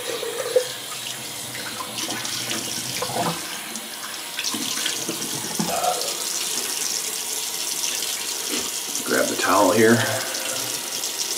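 Cold tap water runs steadily into a sink during a shave rinse, a continuous close splashing flow with brief speech over it and louder splashes of hands rinsing near the end.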